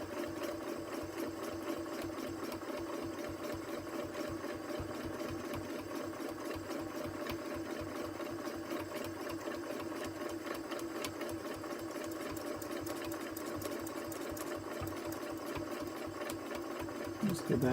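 A sewing machine running steadily while quilting, its needle stitching in a fast, even mechanical rattle close by for the whole stretch, with a slight burst at the very end.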